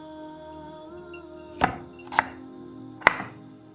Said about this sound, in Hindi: थोड़े मोटे मोटे टुकड़ों में काट रही हूँ मैं शलगम को, ताकि ये जल्दी से उसमें पक जाए।